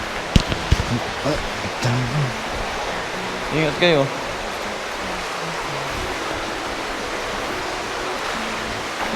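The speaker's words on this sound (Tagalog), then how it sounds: "Nandun yung river. Yung tubig na umaagos galing dun sa may falls." River water flows down from a waterfall on a Sagada hiking trail, a broad steady rushing wash nearby, with a brief spoken line and some footsteps and movement over it.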